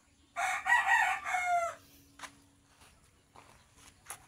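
A gamecock rooster crows once nearby, a loud drawn-out call, followed by quieter clucks and soft footsteps scuffing the ground.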